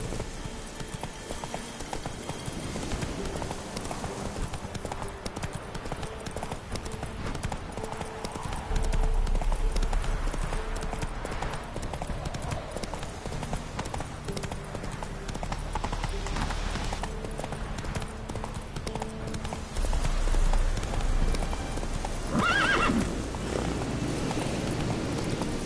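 Horse hooves clip-clopping in a video game, a steady trotting rhythm over ambient game sound with low rumbles, a brief neigh-like sound toward the end.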